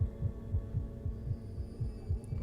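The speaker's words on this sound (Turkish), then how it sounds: "Kalp atışları da hızlanmaya başladı bunun." Heartbeat sound effect in the horror video game Evil Inside, a loud low double-thump pulse repeating steadily and closely, about five beats over a faint hum.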